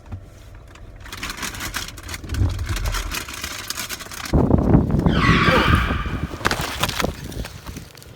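A car engine droning, then a harsh skidding screech and a rough noisy burst as the car hits someone, the loud chaotic impact sound lasting several seconds before easing off.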